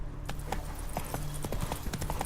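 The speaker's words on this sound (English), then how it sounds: "भाई घोड़ा आने का नाम नहीं ले रहा।" Horse hooves clip-clop steadily in the Witcher 3 video game, a close, rhythmic run of hoofbeats with a faint whinny-like tone mixed in.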